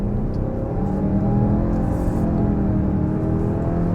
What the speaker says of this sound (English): you can hear it trying to be an 8-speed, but it just isn't